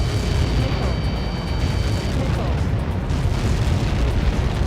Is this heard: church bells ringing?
no